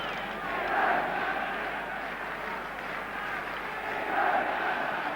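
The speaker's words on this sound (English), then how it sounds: "Crowd buzzing, arguing, wondering" Football crowd at the 1966 World Cup final between England and West Germany, a dense distant murmur of thousands buzzing and arguing, swelling twice into louder surges with faint cheering.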